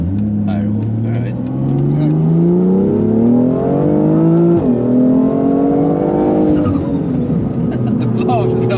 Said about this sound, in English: The blow-off is so addicting